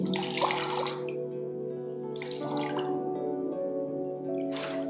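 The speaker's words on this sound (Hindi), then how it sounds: "अब मैं इसे अच्छे से इसका पानी निकाल दूंगी" A cloth strip soaked in cold water for a body wrap is wrung out by hand, water splashing and dripping into a basin in three separate bursts over a steady low hum.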